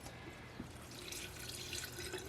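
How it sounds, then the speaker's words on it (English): Warm water being poured into a bowl of sourdough starter and flour for focaccia, a steady soft trickle and splash running close and continuously with no talking. "And we're going to add a half a cup of water."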